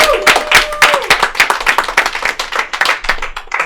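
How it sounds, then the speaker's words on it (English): Audience at a live comedy show at Shakers on Clark claps and applauds for an incoming comedian, a dense burst of close hand claps with a few whoops, steady for several seconds. "Give a round of applause for KJ Whitehead!"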